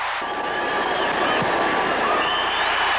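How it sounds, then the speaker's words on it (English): A 1981 football stadium crowd roars in a sustained wash of cheering after a Cowboys touchdown against the Bills, loud and steady throughout with a faint announcer voice underneath. "And the crowd loves it."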